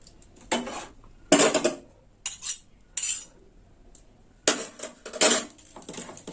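A spoon scrapes and clinks against a bowl in several short bursts while green jackfruit is mixed with salt and cashew paste, close by with quiet gaps between strokes.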